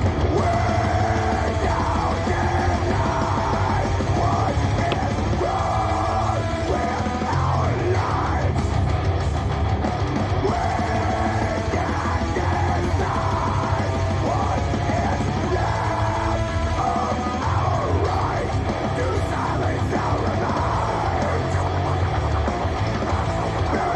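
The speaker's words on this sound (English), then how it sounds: "hear that previous blast beat section again" Dense, loud heavy metal, a blast beat section with rapid pounding drums, distorted guitars and screamed vocals running continuously at full intensity.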